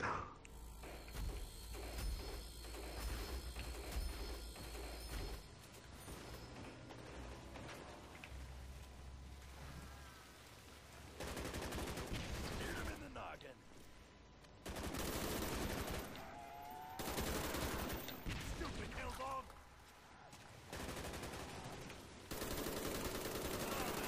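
Rapid gunfire from Call of Duty: Black Ops Zombies on the Shangri La map comes in long sustained bursts with mechanical reloading clicks between them, loud and close, with occasional player talk.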